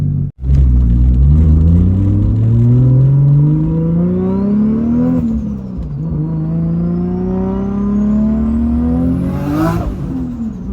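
Lexus SC300 with a 2JZ engine and modified fuel tank accelerating hard through gears, loud revving engine rising in pitch with a shift, tires spinning out, close and continuous with no talk.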